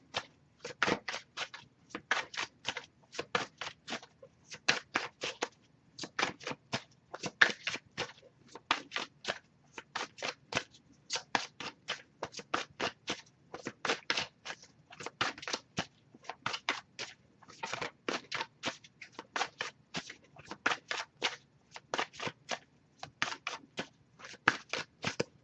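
A rapid, steady run of crisp riffle-like bursts, tarot cards shuffled over and over in close succession with brief pauses between rounds.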